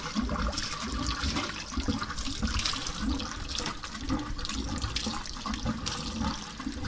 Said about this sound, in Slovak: znova sa prečerpáva voda naspäť do prvej časti sem